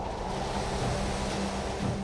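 Ocean waves surging in a steady, dense roar with wind, loud and continuous with no distinct breaks.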